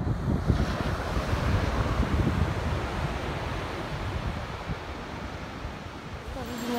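Ocean waves wash steadily onto a beach in Ceará, Brazil, a continuous broad roar of surf mixed with gusting wind buffeting the microphone, with no talk over it.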